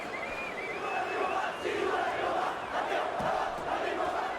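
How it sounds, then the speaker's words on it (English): Crowd of fans cheering and chanting in the Fight Night Champion boxing game during a bare-knuckle bout, a steady roar of voices swelling and dipping across the whole stretch. "Mexican fans cheering, perhaps for O'Neal."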